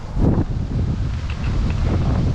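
Steady wind blowing across the microphone, a broad rumbling roar that gusts louder at the start and keeps buffeting throughout.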